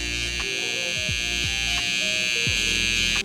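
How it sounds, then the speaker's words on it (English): A hair trimmer buzzes close and steady while cleaning up the corners of a drop fade on curly hair, the high-pitched motor hum wavering slightly before cutting off at the end. "Next with my trimmer, we're gonna start kind of cleaning up the corners"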